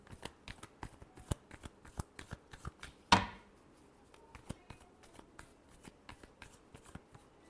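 Tarot cards are shuffled by hand in a quiet room, a run of crisp riffling flicks in a steady close rhythm, with one sharper snap partway through.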